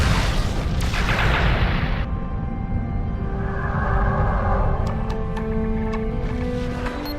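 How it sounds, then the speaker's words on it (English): A Romulan ship explodes in the Star Trek Legacy game, a deep rumbling boom with a dense roar that lingers and fades into a low, tonal hum with faint electronic pings. "Romulan target destroyed."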